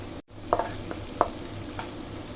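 White onion and garlic stir-frying in oil, with a faint steady sizzle and a few brief stirring scrapes and clinks spaced across the moment, no voices.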